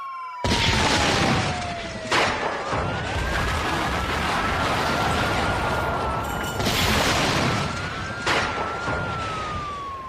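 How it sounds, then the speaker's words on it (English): A blast rings out amid a wailing police-style siren that sweeps steadily through the scene, with several sharp booming hits punctuating the continuous loud noise. "The resultant explosion knocked us all off our feet and sent us flying."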